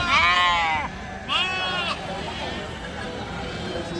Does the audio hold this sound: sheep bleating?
yes